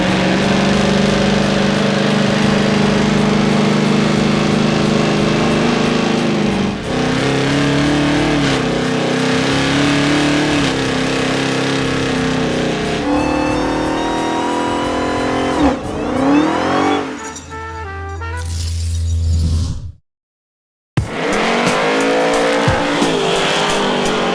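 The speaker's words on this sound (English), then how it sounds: "Let's do some Big Smoky burnouts and get out of here." A 1968 Dodge Charger with a 707 hp Hellcat engine roars through smoky burnouts, loud and close, with sustained high revving, shifting engine pitch, tyre squeal and a brief dropout near the end.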